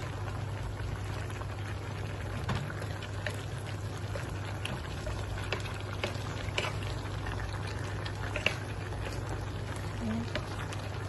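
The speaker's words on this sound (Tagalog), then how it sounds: "Konting pakulo na lang to." Vegetables with shrimp simmering in a covered pot, a quiet steady bubbling and crackle over a low constant hum, with occasional faint pops.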